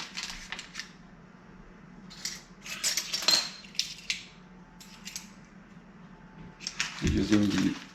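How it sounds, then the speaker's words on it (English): A spoon stirs gelatin into sugar in a bowl, making scattered close scraping and ticking sounds with a louder scraping burst near the end, under occasional talking. "we're gonna add the gelatin into the sugar and mix it together"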